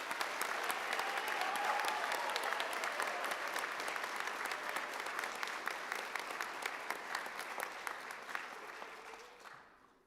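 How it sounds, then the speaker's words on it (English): An audience at a sonography pinning ceremony for health sciences graduates gives sustained applause, a fairly faint, even wash of many hands clapping that slowly tapers and fades out near the end. "They deserve one more round of applause."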